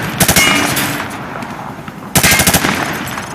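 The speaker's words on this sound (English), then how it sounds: "He sprayed bullets all over the damn place." Two loud bursts of rifle fire sprayed from the hip in Call of Duty Modern Warfare 2, rapid rattling shots close by with a reverberant tail between bursts.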